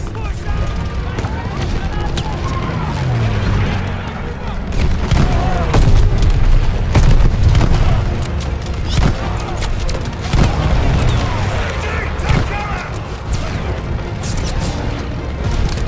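Bombers sweep over a Call of Duty: Vanguard battlefield amid heavy, repeated explosions, booms and rattling gunfire, with a steady rumbling roar and loud crashes that recur throughout.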